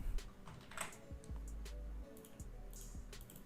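Soft, quick keystrokes clatter in a short irregular burst on a computer keyboard, close-miked and fairly quiet with a faint low hum beneath.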